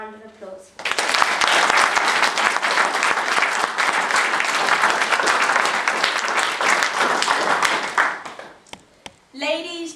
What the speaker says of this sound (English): let us join together in a well-deserved round of applause